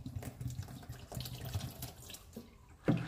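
Liquid is poured into a kitchen sink while an orange detergent base is being made, a steady trickling splash with a faint hollow ring and a louder splash at the end.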